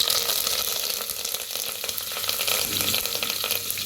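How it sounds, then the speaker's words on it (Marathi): Mustard seeds and asafoetida sizzling in hot oil for a Maharashtrian katachi amti, a dense, loud, steady crackle and hiss heard up close with no voices. "गरम झाले त्याच्यात टाकूया एक भर मोहरी थोडस हिंग"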